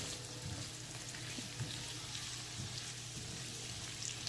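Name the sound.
squash pieces frying in oil, stirred in pan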